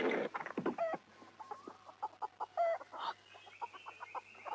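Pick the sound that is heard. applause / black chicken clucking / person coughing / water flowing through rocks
black chicken clucking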